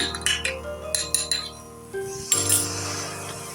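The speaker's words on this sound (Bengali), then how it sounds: "টক দইটাকে ভালো করে ফেটিয়ে নিচ্ছি" Sour curd whisked in a bowl makes a quick run of close, bright spoon clinks against the dish, then a pause and a final ringing clink, with no talking.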